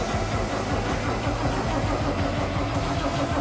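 A 1959 Oldsmobile engine running roughly and steadily at close range, a continuous loud mechanical churn with no pauses and no voices.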